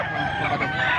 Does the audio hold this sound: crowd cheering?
no